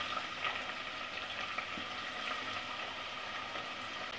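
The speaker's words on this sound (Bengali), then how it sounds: "আমার তেলটা গরম হয়ে গেছে, এখন আমি এখানে পেঁয়াজ কুচি দিয়ে দিচ্ছি।" Chopped onions fry in hot oil in a pot, a steady, soft sizzling hiss that runs evenly throughout with no talking.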